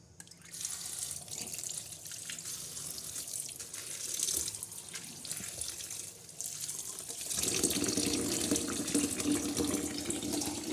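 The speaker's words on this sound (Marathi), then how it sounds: "छान असं पाण्याने आपण भाजी धुणार आहोत" Running tap water splashes over vegetables being rinsed, a continuous gushing that grows louder and fuller partway through, with no voices.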